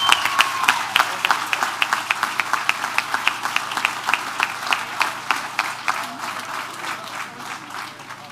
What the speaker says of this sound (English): A big round of applause for these great folks we have in the state of Florida representing us.